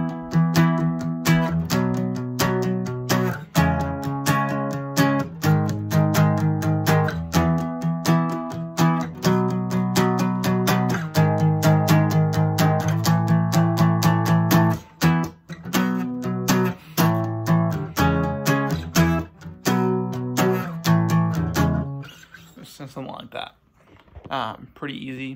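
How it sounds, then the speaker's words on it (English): A guitar is strummed steadily with all down strums through the chords of a song, loud and close, in a driving even rhythm. Near the end the playing thins out and the last chords ring and die away. "For the strum pattern for this song is just down strums the whole time"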